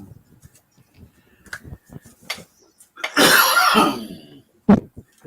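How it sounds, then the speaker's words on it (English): A person nearby coughs in one harsh, rough burst lasting about a second, set among quieter scattered rustles and small noises in a room. "I'm coughing, and I don't think it needs to be broadcast out."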